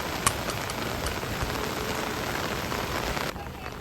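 Heavy monsoon rain pours steadily on surfaces near the Kondhane Caves around Karjat, a dense continuous hiss with a few closer drops, alone without voices.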